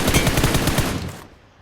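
Rapid automatic gunfire from a bot in a mobile battle-royale shooter: a dense, loud burst of repeated shots that fades out after about a second, with no talking over it.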